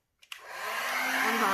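A hair dryer blows onto a wet resin pour painting on canvas, clicking on after a couple of brief knocks and then roaring steadily and close, building slightly in loudness.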